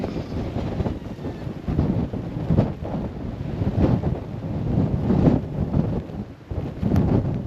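Strong gusty wind buffeting the microphone on a stormy Blackpool beach as it drives sand along, a loud, rough, continuous roar that surges and eases in uneven waves.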